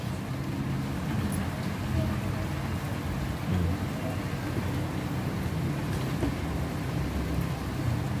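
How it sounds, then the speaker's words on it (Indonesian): Rain falls steadily at a roadside kembang tahu stall in Indonesia, where hot ginger-syrup tofu pudding is sold from a shoulder pole. The even hiss is mixed with low traffic hum, and voices murmur faintly underneath. "Pas hujan sini guys ya."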